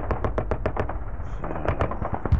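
Artillery fire in the wargame Sealion '40, heard as a rapid train of sharp, evenly spaced bangs in the first second, then a few scattered reports and one heavier thump near the end, all at moderate loudness with no voices.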